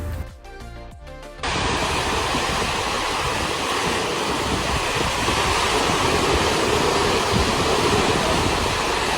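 Sea waves roll onto Aare Ware beach in Ratnagiri district, a loud continuous roar of surf that starts abruptly after a brief quieter moment and then holds steady, with no talking.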